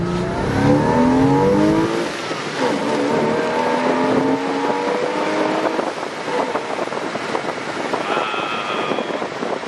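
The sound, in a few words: Porsche 986 Boxster S exhaust at low speed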